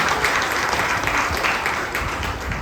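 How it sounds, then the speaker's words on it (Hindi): At a cultural program held by a foundation, an audience breaks into sustained, steady applause, many hands clapping close together at an even loudness from start to finish. "उन लोगों के लिए एक बात जोरदार तालियां मेरी तरफ से और हमारे संस्था की तरफ से"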